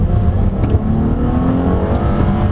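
Strong, steady engine drone of a 2015 Hyundai Azera sedan with a 3.0L V6 pulling under acceleration, heard from inside the car and continuous throughout with no talking.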